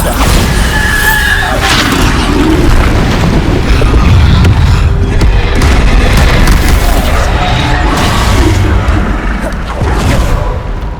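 Repeated booming Bombarda spell blasts from the video game Hogwarts Legacy, a dense, continuous run of loud explosions and crashes with rumbling low end and little pause between hits.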